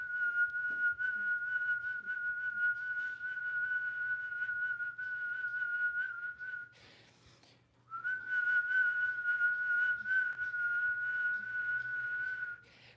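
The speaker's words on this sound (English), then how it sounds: "Let's spend 15 seconds whistling." A person whistles one steady, sustained note, pausing briefly about halfway, then holding the same pitch again; close and clear.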